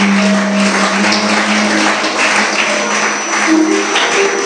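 A church congregation applauds loudly and continuously, a dense wash of clapping from many hands with no break.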